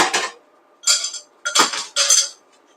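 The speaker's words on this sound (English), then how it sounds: "we're going to add some ice to our glass" Ice cubes clatter into a rimmed cocktail glass in a kitchen, four distinct bright clinking bursts in an uneven rhythm, close and fairly loud, with no voice over them.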